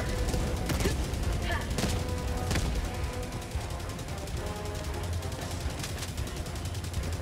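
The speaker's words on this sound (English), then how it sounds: "I don't know who's shooting" Gunfire in the shooter game Helldivers 2 keeps up as a dense, continuous fusillade, with rapid automatic bursts and sharper single cracks layered over a rumbling battle background.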